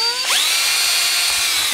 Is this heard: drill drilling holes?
yes